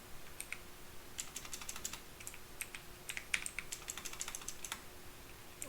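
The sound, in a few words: typing on a computer keyboard while writing Java code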